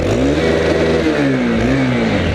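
Close, loud revving from a Honda Twister motorcycle fitted with a straight exhaust pipe, the engine note swooping up and down in quick throttle blips with a rough, raspy edge and nobody talking.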